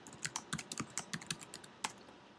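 Quick, light keystrokes on a computer keyboard as a password is entered, a rapid irregular burst of close clicks that is fairly faint.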